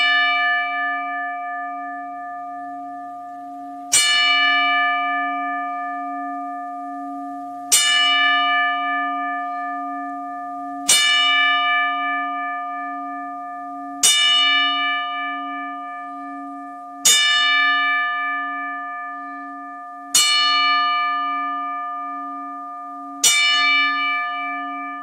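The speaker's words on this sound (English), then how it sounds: "where is my bell? Where is my bell? There we go. Let's get a 10 count for this brother." A bell rings in a slow, even ten-count tribute, each loud resonant strike ringing out and fading before the next, about every three seconds, with no voices.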